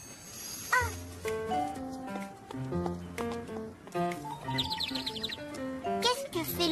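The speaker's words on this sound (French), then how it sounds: "C'est l'oiseau, grand-papa." Cartoon bird chirping in an animated children's show, light tweeting calls mixed with background music and tune.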